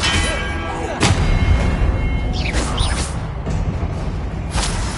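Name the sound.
Confringo and Expelliarmus spell blasts in Hogwarts Legacy video game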